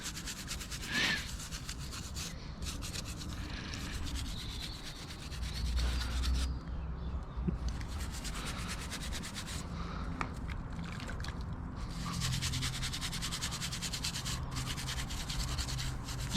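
A brush scrubs the brake callipers of a 2019 Honda Africa Twin motorcycle in steady, continuous strokes, close and moderately loud, with brief pauses between bursts of rubbing.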